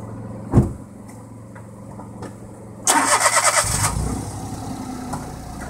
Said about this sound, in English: let's get in the car and drive over it